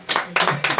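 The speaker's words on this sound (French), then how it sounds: "Applaudissements pour ce qu'il a dit." A short, close smattering of studio-audience clapping, three quick bursts of hand claps in under a second.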